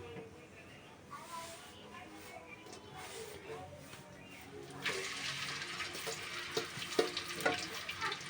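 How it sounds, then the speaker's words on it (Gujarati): Onions drop into hot oil for a fish dish. The frying swells into a louder, crackling sizzle partway through as a voice talks over it. "તેલ આવી જાય પછી આપણે નાખી દઈશું ડુંગળી"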